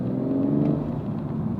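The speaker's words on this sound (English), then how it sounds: "The inline 6, all the 6 cylinders of BMW, they just sound so" BMW M140i with its inline six-cylinder engine, a steady low rumble of the engine running nearby without any talking.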